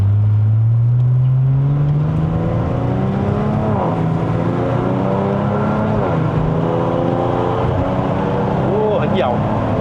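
A Kia Stinger GT with a 3.3-litre twin-turbo V6, rear-wheel drive and set to Sport mode, accelerates hard. The engine note rises steadily through the gears and stays loud and close throughout, with voices talking over it.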